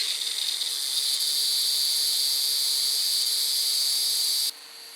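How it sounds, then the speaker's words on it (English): An angle grinder sands the sides and face of a cast bandsaw wheel during a restoration, a steady loud high hiss that runs unbroken and then drops away sharply near the end. "an angle grinder, and I'm just going to kind of sand the sides of the wheel as well as the face of the wheel"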